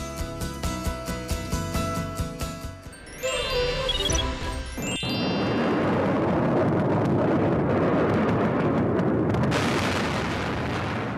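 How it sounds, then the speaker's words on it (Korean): Explosions from US airstrikes on Baghdad at the start of the Iraq War, captured in news footage; after a stretch of chiming music, a sudden blast leads into a sustained, loud rumbling roar of bombardment. "미국은 바그다드 등 주요 도시에 대한 대규모 공습 작전을 펼쳤는데요"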